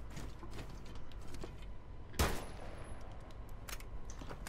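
Gunshots in the game Rainbow Six Siege: one sharp, loud shot stands out mid-clip, with fainter pops scattered around it over a low background hum.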